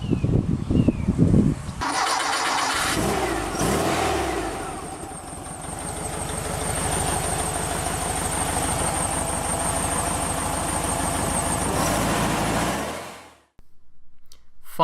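A 1904cc engine in a 1967 bus cranks and catches, then settles into a loud, steady close-up idle with a rhythmic pulse before cutting off near the end.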